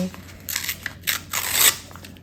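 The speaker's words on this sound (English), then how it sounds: "I'm going to go ahead and tear away" Paper being torn away for a collage board, a few quick close ripping and crinkling bursts in short succession.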